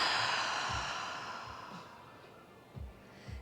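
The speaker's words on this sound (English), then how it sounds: "And then exhale out." A long, deep exhale during a slow flow yoga session, breathy and close, fading gradually over about two seconds, followed by a few soft low thumps.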